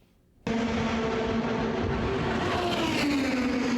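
Race cars roar past at Indianapolis Motor Speedway, a loud, sustained high-speed engine wail that bursts in after a brief quiet start and holds steady with a rising pitch.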